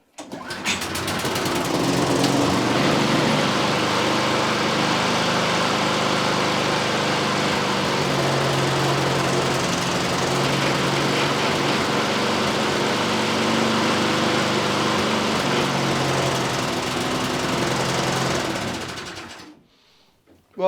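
A small scrap petrol engine of unknown make catches after a pull-cord start and runs with a steady, buzzing drone at close range for nearly twenty seconds before cutting off abruptly.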